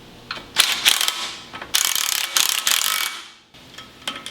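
Hand ratchet clicking in bursts while tightening 3/8-16 axle bolts with lock washers on a reconditioned Dana 30 front axle from a 1972 International Scout; close, crisp pawl clicks in several rapid runs, no talk.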